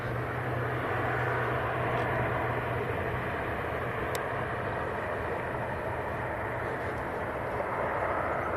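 A small ATR 42 turboprop arriving from Inverness at Manchester Airport gives a steady, distant broadband roar and hum that holds throughout without a break.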